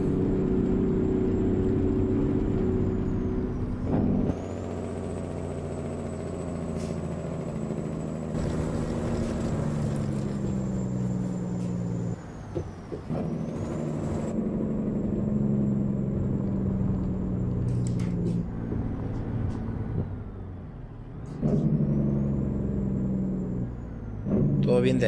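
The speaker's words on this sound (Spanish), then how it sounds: "Escuchen el freno de motor, ¿eh?" A Peterbilt 579 in American Truck Simulator, hauling vegetables through Nevada, drones with a deep, steady engine-brake rumble. The pitch drops and jumps at several gear shifts, and a thin high whine runs above it throughout.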